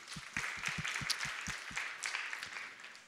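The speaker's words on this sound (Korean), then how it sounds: "우리 다시 한 번 더 박수로 격려하겠습니다." A church congregation at a Wednesday worship service claps together, a soft, even wash of applause with a few distinct nearby hand claps standing out, steady for a few seconds.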